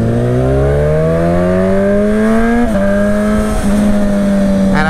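A parts-bin motorcycle with a Suzuki gearbox revs hard and accelerates, its loud, close engine note climbing steadily through a gear change, then a second shift, with no voices.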